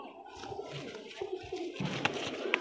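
Kalsira Madrasi pigeons in a loft, soft low cooing and rustling close by, with a few brief clicks, over a quiet background.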